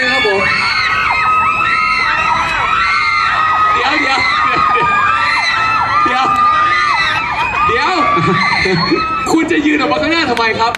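A dense crowd screams and cheers continuously at high pitch, loud and sustained throughout, with many overlapping shrill voices.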